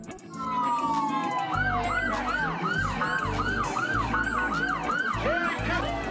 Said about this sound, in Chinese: 挂满彩灯的各种警车、